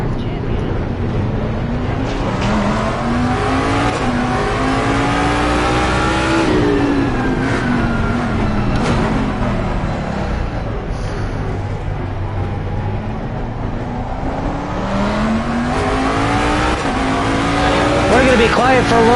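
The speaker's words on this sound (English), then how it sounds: "so you can hear the engine of this car, or the inside of the cockpit of this car of Don Johnson." A race car engine heard from inside the cockpit in the Assetto Corsa Competizione racing game, loud and close, revving up and down repeatedly through the gears for about twenty seconds, with someone talking over it.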